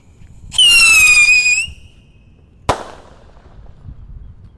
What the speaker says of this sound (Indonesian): kalau ini roket pirotor. Ini ukurannya sedang guys. Kita nyalakan. Siap meluncur.